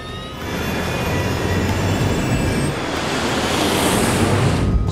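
Trident jet airliner engines at maximum takeoff thrust roar steadily and loudly throughout, a broad continuous rush with a faint high whine on top and no speech.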